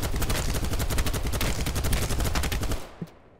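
Rapid automatic gunfire from a weapon in Battlebit Remastered, a dense, loud, steady stream of shots lasting nearly three seconds before cutting off, followed by a single faint thump.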